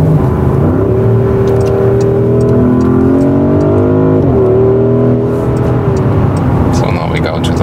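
Porsche Cayenne Turbo Coupé V8 engine revving hard as the car accelerates along a countryside road, a loud, continuous rising drone with a brief shift dip partway through, heard from inside over steady road noise.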